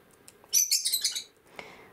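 A small pet bird chirps indoors, a quick burst of bright, close tweets lasting under a second, followed by a fainter single call.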